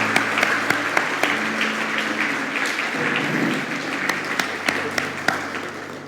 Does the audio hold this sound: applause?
yes